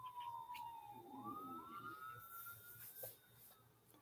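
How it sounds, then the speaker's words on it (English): A distant emergency siren from a rescue truck wails, its pitch sliding down and rising again, faint over low traffic rumble. "Got a rescue truck coming"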